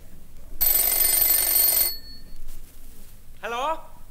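A telephone in an office rings with a loud, bright electronic trill for over a second, followed by a pause and then a voice answering.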